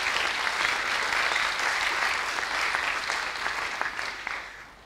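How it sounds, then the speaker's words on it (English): An audience claps steadily at a Drupal Camp conference session in Vienna, a dense, even round of applause that slowly thins toward the end, with no voices over it. "A round of applause for Friedrich, please"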